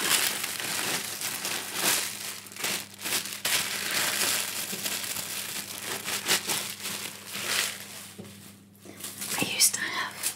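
Paper being folded and crinkled around a pyrography bookmark for wrapping, close up with soft rustling and crackling crunches in irregular bursts, a whispery quality throughout.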